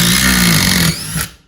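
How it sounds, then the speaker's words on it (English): A Dewalt DCF850 impact driver drives a screw in one fast, loud burst of rapid hammering under a steady motor whine, stopping abruptly after about a second. "That is one quick impact driver right there."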